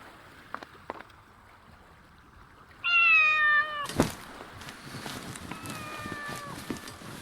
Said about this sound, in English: Captain Deneuve's cat, a rather stubborn beast